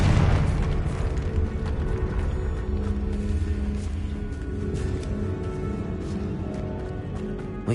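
A Confringo blasting spell explodes in Hogwarts Legacy, a loud booming blast that opens the clip and then rolls into a long, dense rumble with crackling debris.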